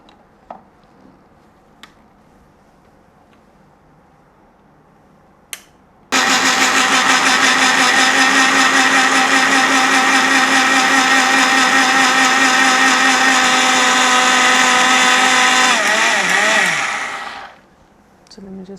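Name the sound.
blender processing wafer paper with water in jars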